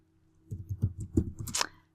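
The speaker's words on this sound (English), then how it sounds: "So I'm going to type units." A few quick clicking taps of typing on a computer keyboard, close and soft, in a brief burst of about five keystrokes.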